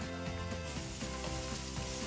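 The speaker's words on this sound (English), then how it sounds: "You can hear that sizzle, and you can smell the garlic literally the second it hits the pan." Steady, close sizzling of garlic frying in a hot pan, a continuous crackling hiss with no voices.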